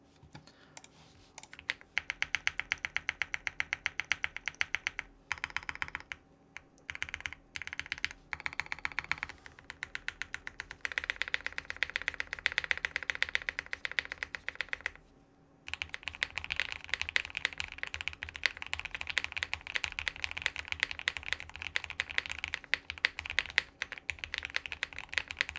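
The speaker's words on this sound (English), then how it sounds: "to me this does not sound foamy even. It sounds very good." Rapid, steady typing on a modded Space 80 Apollo mechanical keyboard with tape mod, with soft, muted, thocky keystrokes in dense bursts, a few short pauses, and no talking.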